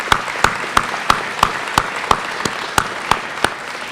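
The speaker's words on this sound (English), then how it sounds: "Let's give them a round of applause" Steady, evenly spaced claps ring out at an awards ceremony, about three per second, sharp and fairly loud, sounding more like a few hands beating time than a full crowd.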